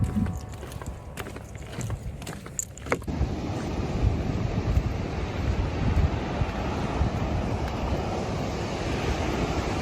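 Ocean surf breaks on a beach in Spain as a steady, loud, broadband wash. It follows a few seconds of quieter outdoor sound with sharp knocks. No talking is heard.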